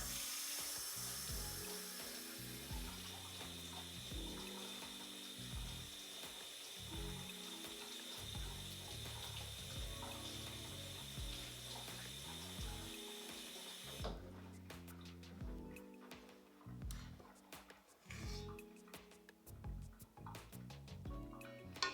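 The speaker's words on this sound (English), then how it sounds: "I am going to rinse my hands and get them back and get them wet" Hands are rinsed and wetted under a running kitchen tap while making peaches and cream oatmeal cookies. The water hisses steadily and faintly, then turns splashier and more uneven toward the end, with no talking.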